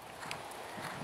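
Soft, rhythmic hoofbeats of a horse cantering under a rider in an arena, quiet and somewhat distant, with a faint voice in the background.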